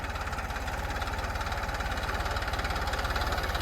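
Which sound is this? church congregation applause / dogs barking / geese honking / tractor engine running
tractor engine running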